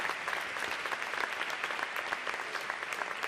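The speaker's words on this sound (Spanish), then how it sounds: "Por favor, un aplauso para Alex" An audience at a music awards ceremony claps for a pianist, producing steady, fairly faint continuous applause throughout.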